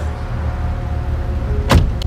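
A car interior with a steady low engine and road rumble, ending in a brief whooshing mechanical swell like a power window or door, close and fairly loud.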